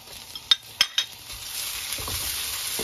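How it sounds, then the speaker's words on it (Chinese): Scallion, ginger and garlic hit hot oil over high heat: three sharp clanks of a spatula on a wok, then a rising, steady sizzle as stirring continues, close and loud. "放入葱姜蒜，加大火力，有多大火开多大火，炒出香味儿"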